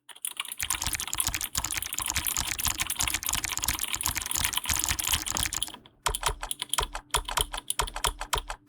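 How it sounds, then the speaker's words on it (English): Rapid keyboard typing sound effects from an Opera GX browser mod clatter densely and loudly for about six seconds, then resume in sparser, more separated keystrokes after a brief pause. "Now for the sound effects with our typing."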